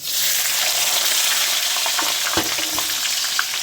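Onions dropped into hot oil with bay leaf and whole cumin for a jackfruit curry, setting off a loud, dense, steady sizzle that fills the whole moment, with a few faint stirring taps near the end.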